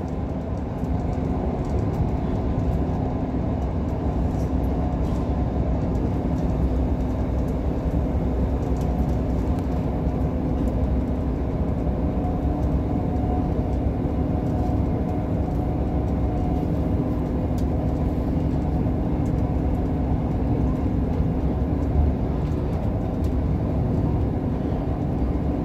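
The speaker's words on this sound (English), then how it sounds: "Sprinter Express trains these are, aren't they?" Interior of a moving Sprinter Express train, unit 158863, giving a constant low rumbling drone of engine and wheels, steady and unbroken throughout.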